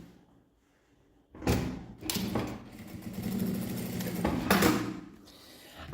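A sewing machine stitches fabric for a double phone holder in a quiet room, running in a couple of short bursts separated by handling thumps and a brief pause.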